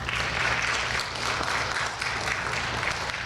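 An audience at a school convocation symposium claps for a teacher, a dense, steady round of applause that stays strong throughout.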